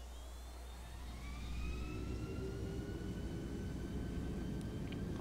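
Simulated MD-88 jet engines spool up for takeoff in the Prepar3D flight sim, a steady roaring whine rising with thin tonal lines, loud and continuous without talk.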